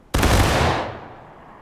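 A single massed musket volley rings out in the video game War of Rights, one loud simultaneous crack followed by a decaying rumble, close and alone.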